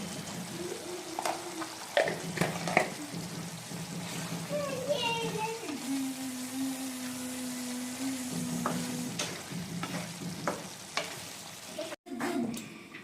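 Paneer stirred in a pan during a matar paneer preparation: a soft sizzle under scraping and stirring clatter, with occasional clinks and a talking voice.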